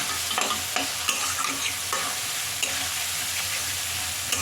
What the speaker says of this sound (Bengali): এবার এই মশলাটাকে ভালো করে ভাজতে হবে যতক্ষণ না মশলা থেকে তেল ছাড়ছে